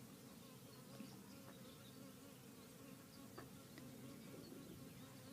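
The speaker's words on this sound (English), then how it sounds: "There's a bee buzzing around my head at this moment." A bee buzzes around a person's head outdoors during a guided meditation, a faint, continuous droning hum with no talking.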